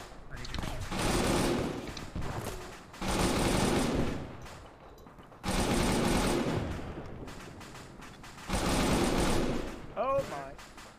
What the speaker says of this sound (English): Probably a couple launchers and a bunch of small arms.